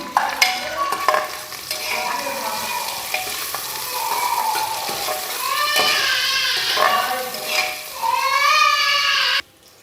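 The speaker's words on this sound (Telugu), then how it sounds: "పచ్చిమిర్చి, కరివేపాకు కూడా వేసుకుందాం. వీటిని ఒకసారి కలుపుకుందాం మనం." Green chillies, curry leaves and chopped onions sizzle in hot oil in a pan for kichidi while a spoon stirs and scrapes through them, producing a steady close frying hiss broken by repeated clinks and scrapes.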